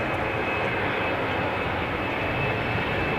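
A KLM Embraer 190 jet departs Schiphol for Aberdeen, its engines a steady, loud broadband roar that holds level throughout with no voices over it.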